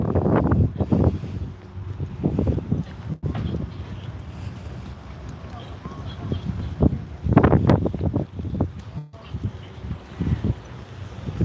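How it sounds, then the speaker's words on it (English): Gusty outdoor wind blows around dumpsters beside a building, buffeting the microphone in rough, uneven bursts with stronger surges near the start and again later. "The wind's taking a toll on these dumpsters."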